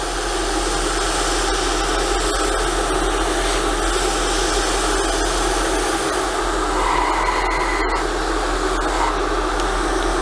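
A spray gun lays body colour paint onto a model engine, a steady close airy hiss that runs unbroken, with a brief click near the end.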